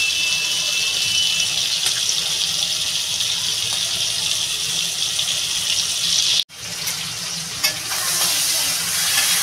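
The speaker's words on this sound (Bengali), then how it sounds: "তেলটা গরম হয়ে গেছে, মাছটা দিয়ে দেবো।" Fish fries in hot oil with a loud, steady, close sizzle that cuts out for a moment and then returns, with no talking.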